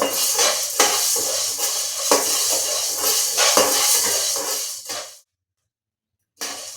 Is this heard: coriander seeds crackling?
yes